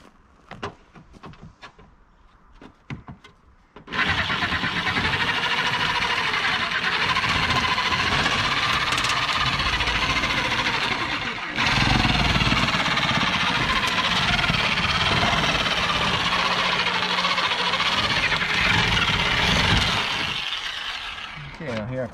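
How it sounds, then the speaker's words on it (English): A power nibbler shears through tin sheet on a rotten mobile home, a loud continuous grinding buzz that starts abruptly and runs steadily, briefly stopping and restarting midway as it bites through a thicker seam. "This basically has a nibbler on the end here, and you get the tin in here, and you just pull the trigger"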